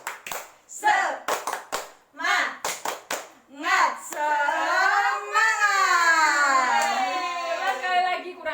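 In a classroom, children clap a short rhythmic cheer pattern of sharp, spaced handclaps mixed with their voices, followed by a long, wavering, whiny child's vocal like crying that fills the second half.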